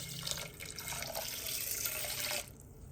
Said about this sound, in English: Now that I've added the water to the rice